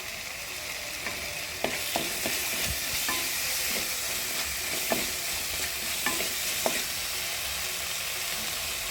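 Ground tomato paste with garam masala powder fries in a pan for tender coconut kurma: a steady, dense sizzle runs throughout, broken by repeated scraping and tapping strokes of a spoon stirring the mixture.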